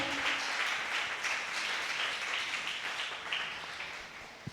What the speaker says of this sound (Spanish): le va a dar ese aplauso al Señor, déselo fuerte